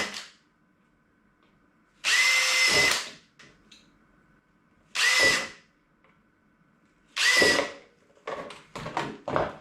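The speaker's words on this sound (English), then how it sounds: "I'm using here 5 millimeter drill." A power drill with a 5 millimeter bit whines through a plastic bike mudguard in three separate bursts of about a second each, with short clicks and rattles in the pauses between.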